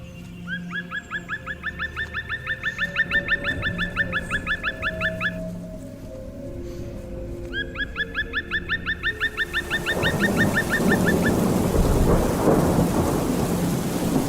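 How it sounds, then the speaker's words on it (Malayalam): Stormy weather for a forest scene in a radio drama: steady rain and wind under repeated honking goose-like calls, then a heavy thunder rumble swelling loud near the end. "ഇതെന്തൊരു കാറ്റും മഴയാ"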